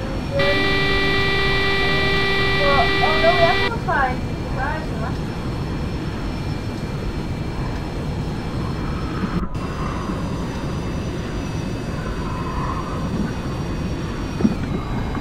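An airplane engine in the flight simulator X-Plane 11 hums steadily under a voice, opening with a sustained electronic warning tone before settling into a constant mechanical drone.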